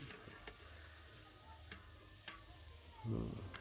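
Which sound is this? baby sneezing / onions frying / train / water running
onions frying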